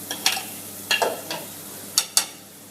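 Lobster frying in a pan with garlic butter, minced garlic, thyme and scallion, heard as a soft sizzle broken by a few sharp, scattered clicks and scrapes of stirring, fairly close and with no talking.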